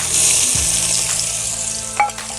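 Onions sizzle loudly in an oil tempering of cumin, curry leaves and garlic in a pan, a dense continuous frying hiss close up with a brief stirring clatter near the end.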